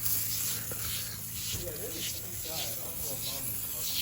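Broad hissing bursts from a spray bottle of cleaner come in short repeated pulses, close by, with a person talking over them.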